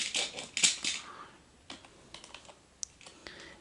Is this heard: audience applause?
no